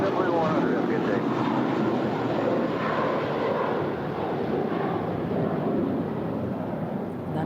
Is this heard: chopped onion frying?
no